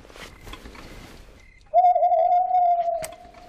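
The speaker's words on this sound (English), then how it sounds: "It's an owl. Owls are nothing to worry about." An owl hoots at night in a children's Christmas special, a single sustained, wavering hoot rising suddenly out of quiet background and holding steady for over a second before fading, fairly loud and close.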